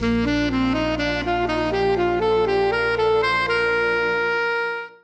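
A sustained keyboard tone plays an ascending scale in paired intervals of thirds, steady and clear, ending with a held note that fades out.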